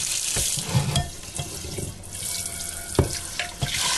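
Tap water runs into a kitchen sink while barley is rinsed, a continuous splashing hiss broken by irregular clunks and sloshes as the grain is handled.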